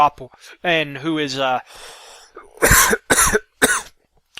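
A series of sharp coughs, three or four bursts in quick succession, loud and close, following a stretch of voiced sound.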